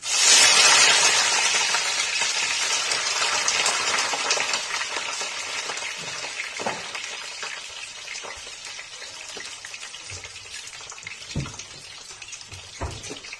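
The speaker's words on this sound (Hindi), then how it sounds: "ये देखिए बैगन फ्राई करूँगा" Eggplant pieces dropped into hot oil, with a loud hissing sizzle at first that slowly settles into steady frying crackle and occasional pops, close up and with no talking.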